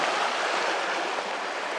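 Dog splashing in stream water at a rockhounding claim with red jasper; a steady, dense rush of water and splashing, close and continuous, with no talking.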